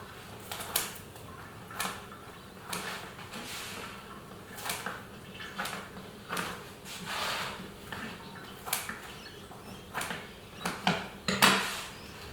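A knife or pizza cutter slicing through a freshly cooked hot pizza on a hard surface, making repeated scraping and tapping strokes in an uneven rhythm, close and fairly quiet, with no talking.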